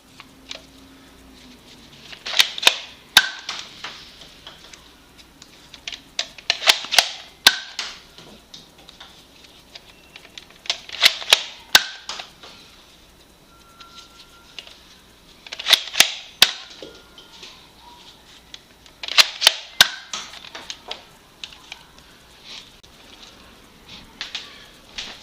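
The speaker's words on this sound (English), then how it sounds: "I'll do a separate firing test with just the front gun, just for fun," A Nerf N-Strike Elite Longshot CS-6 firing darts from its front gun alone, sharp clicking snaps and pops in five separate bursts of several rapid shots each, close and loud with quiet pauses between.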